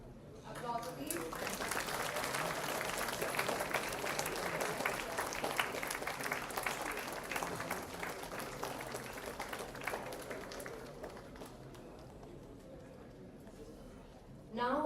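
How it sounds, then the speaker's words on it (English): Applause from an audience at an international academic conference during a felicitation, sustained clapping that swells, holds for about ten seconds, then thins out and fades, with a voice speaking faintly near the end. "Applause, please."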